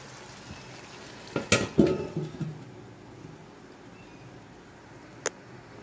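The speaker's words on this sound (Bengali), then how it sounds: "একটি ঢাকনা দিয়ে কিছুক্ষণের জন্য ঢেকে রাখবো।" A lid goes onto a cooking pot while chicken biryani is being made, a quick cluster of metallic clanks and rattles followed by quiet, then one more light tap a few seconds later.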